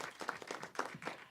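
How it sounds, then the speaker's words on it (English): A short burst of audience applause at a film screening event, a quick scattering of claps, faint and distant. "May we please give her a quick round of applause."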